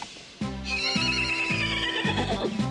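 Cartoon horse whinnying loudly and repeatedly over several rising and falling bursts, with no talk.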